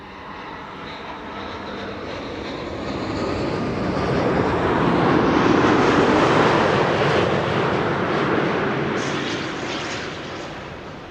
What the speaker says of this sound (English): Air Canada flight 900 arriving from Montreal.